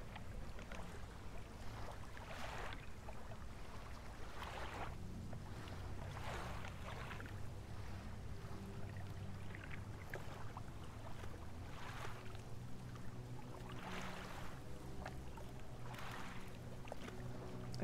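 A small fishing boat in the video game Dredge putters steadily across water, a low continuous engine drone with wind and wave wash rising and falling throughout, alone without talk.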